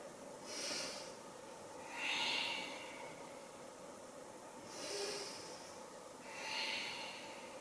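Slow, deep breaths taken while holding a seated or standing yoga pose in a seniors' class, about four soft, breathy swells spaced a couple of seconds apart, fairly close and quiet with no talking.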